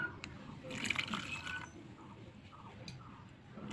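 Water is poured briefly into a bowl of ground coriander, garlic, ginger, cumin, chili and onion paste for chicken curry, a short soft splash and trickle before quiet room tone.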